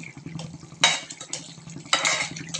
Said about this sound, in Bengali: ধনিয়া পাতা দিয়ে এখন নাড়াচাড়া করে দেবে।